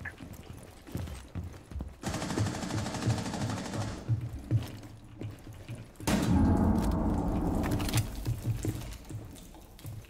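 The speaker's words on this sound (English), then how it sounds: "Someone shooting my feet." Gunfire in the video game Rainbow Six Siege, with sustained bursts of automatic fire in two clear stretches broken by quieter gaps, fairly loud and close, with no talk during it.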